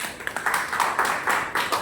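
Scattered clapping from a gathered audience at a business meeting, a soft, uneven patter of hands in short bursts at moderate distance, with no talk over it.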